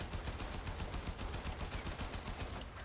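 Rapid bursts of enemy gunfire in a shooter video game, a steady stream of sharp cracks repeating through the whole moment at an even, moderate level with no talk over them.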